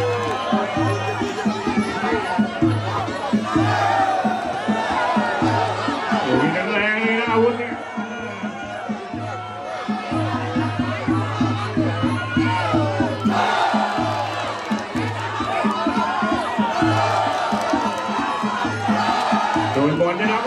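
Football fans of Arsenal and Singha Dam fill a stadium with dense chanting and crowd chatter, rhythmic cheering swelling and fading at a distance throughout.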